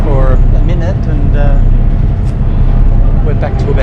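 A loud, steady ferry engine roar fills the background, with someone speaking over the continuous drone.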